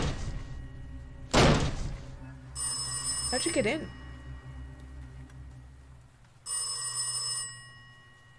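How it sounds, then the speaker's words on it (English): An old telephone rings in the gothic horror game Last Days of Lazarus, two bursts of bright bell trilling separated by a pause, with a heavy thud and a voice speaking in between. "Oh, phone, okay."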